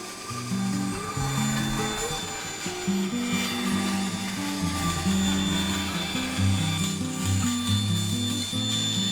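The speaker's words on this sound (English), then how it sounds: "And then on the bandsaw, I'll cut to that line." A bandsaw cuts out the wooden top of a handmade guitar in a luthier's workshop, its motor humming steadily with shifting tonal whine as the blade follows the marked outline, loud and continuous with no talk.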